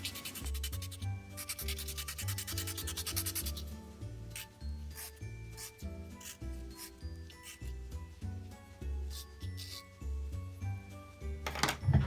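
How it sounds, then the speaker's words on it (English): Brisk scratchy rubbing of sandpaper against a paper stump, in bursts, layered over steady background music with a thumping bass line. "I'm going to clean it up with some sanding paper, like this."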